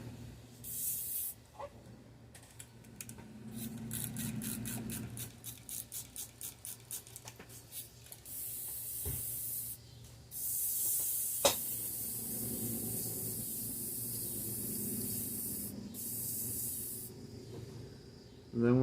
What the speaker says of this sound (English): Then we'll clean out this airbrush.